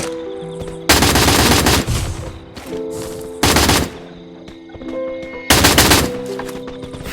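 Video game gunfire in loud, close bursts of rapid automatic fire, three long volleys separated by quieter gaps with softer single shots and faint game sounds.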